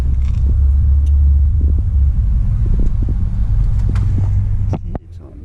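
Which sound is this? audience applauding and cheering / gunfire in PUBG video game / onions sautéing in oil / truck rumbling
truck rumbling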